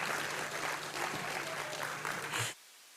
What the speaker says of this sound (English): Can we just hear one more time a round of applause for our beautiful traditional dance troupe welcoming you here?